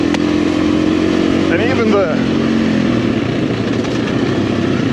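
A PR7 motorcycle ridden through Portugal, its engine droning steadily and close throughout while someone talks briefly over it.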